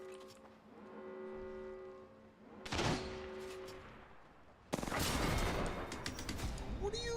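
Video game firefight with sharp gunshot bursts and crashing impacts following tonal in-game sounds, the last few seconds dense with loud sustained fire.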